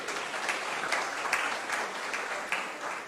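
Applause from an audience at a political press conference, a soft, even patter of clapping heard from a distance, fairly faint and continuous without talk.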